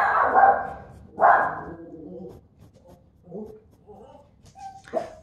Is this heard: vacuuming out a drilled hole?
no